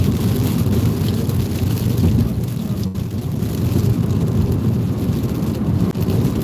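Heavy rain pours steadily as a thunderstorm moves into Madison, Indiana, with low rumbling thunder beneath a loud, dense wash of rainfall and no voices.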